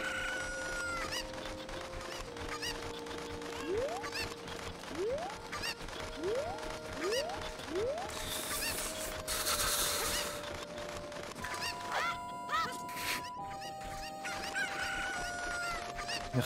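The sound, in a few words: chicken clucking in Zelda: Ocarina of Time video game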